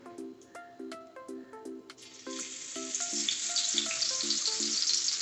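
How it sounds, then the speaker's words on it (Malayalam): Cinnamon, cloves and cardamom roast in a pan as the first step of a pepper chicken recipe. A steady, close sizzle begins partway through and continues under light background music. "ആദ്യം നമുക്ക് ഈ കറുവാപ്പട്ടയും ഗ്രാമ്പുവും ഏലക്കായും ഒന്ന് വറുത്തെടുക്കാം."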